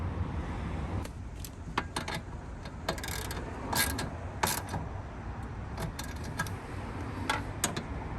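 A Rennline blower motor cover is tightened inside a car's front trunk, producing scattered small metallic clicks, ticks and light rattles over a low steady hum, close by with no talking.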